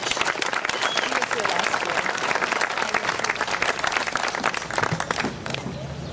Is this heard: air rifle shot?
no